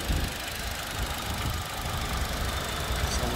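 A 2007 Toyota Innova G MPV's engine idles close by, with a steady low rumble and faint knocking texture that holds evenly throughout, with no talk over it.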